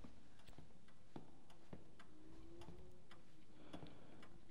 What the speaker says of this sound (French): Pendule d'horloge.